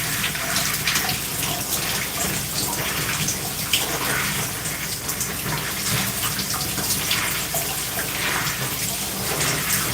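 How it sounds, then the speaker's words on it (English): Water rinses shampoo out of hair in a steady, loud, close gush that continues evenly throughout, with no talking. "we're rinsing out our second shampoo."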